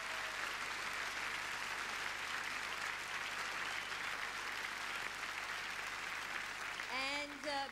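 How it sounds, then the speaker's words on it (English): Big, sustained applause fills a hall at the 2002 Logie Awards TV ceremony, a dense steady roar of clapping from a large crowd, with a voice breaking in near the end. "we need a big round of applause for this one"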